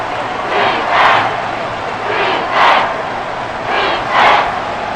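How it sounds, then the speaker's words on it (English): A packed Arrowhead Stadium crowd roars at a Chiefs versus Eagles NFL Monday Night Football game, a loud, dense wall of sound that swells in three surging waves. "The Arrowhead crowd in full roar."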